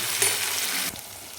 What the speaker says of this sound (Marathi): आपल्याला कंटिन्यू याला तेलामध्ये असं ढवळत राहायचं आहे आणि गॅस स्लो ठेवायचा